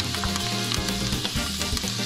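Thyme dropped into hot oil and butter in a pan, sizzling and crackling steadily at close range with no voices.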